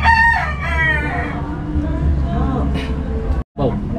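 A rooster crows loudly and close at the start, chickens cluck around it, and more crowing follows later. People talk over the birds in an outdoor setting.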